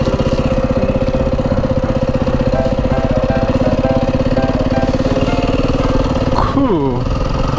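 A remote control vehicle engine buzzes steadily and loudly up close, a high, even whine that dips and swoops in pitch near the end as it moves off; people talk faintly beneath it.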